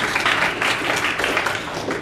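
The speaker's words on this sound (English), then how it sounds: "by show of applause if you agree with the following" Steady applause from a conference audience during a talk, dense overlapping claps filling the room at an even level without a break.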